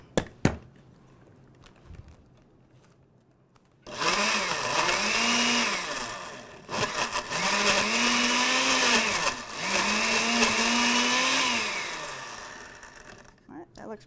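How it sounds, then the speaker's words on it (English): A kitchen blender whirring loudly as it blends a cookie milkshake, running in several long bursts with pitch rising and dipping as the motor works through the mix, after a few soft clicks. "We're going to blend it up."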